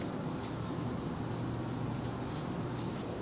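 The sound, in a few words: hand sanding a car body repair with sandpaper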